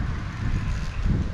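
Wind buffets a microphone outdoors by a river while fishing, a low rumbling gusty roar that stays loud and close throughout.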